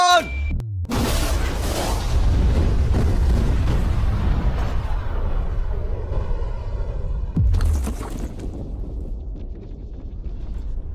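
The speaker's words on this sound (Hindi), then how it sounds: "लेकिन ये एक असली धमाका है" Huge explosion of bombs blowing up a safe, a massive close boom with a long rumbling roar and debris noise that slowly fades, a second sharp blast partway through, voices faintly under it.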